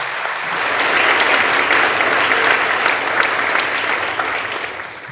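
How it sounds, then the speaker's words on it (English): Audience at a live stage show breaking into sustained applause, swelling to a full, dense clatter of many hands before easing off slightly at the end. "I hope you're not tired of clapping"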